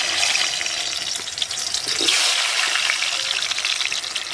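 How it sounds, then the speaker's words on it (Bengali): Potatoes frying in hot oil in a home kitchen while cooking a chicken curry: a steady, loud hissing sizzle that swells briefly midway, with no voices. "তেলটা গরম হয়ে গেছে, এবার আমি আলুগুলোকে ভেজে নিচ্ছি।"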